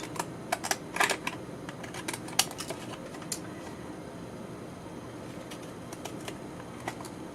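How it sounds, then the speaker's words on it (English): Soft crisp snipping of deckle edge scissors through paper, a run of short clicks and cuts clustered early, then sparser snips over quiet room noise. "I am going to use a pair of deckle edge scissors, and I'm just going to trim around the image"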